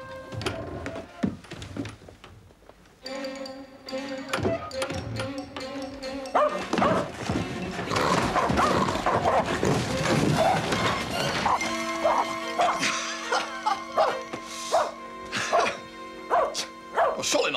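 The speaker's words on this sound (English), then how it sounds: "Of a tiny little dog" A tiny dog barks repeatedly indoors in a period drama setting, sharp yaps in irregular bursts, some overlapping with clattering and a crash, loud and close throughout.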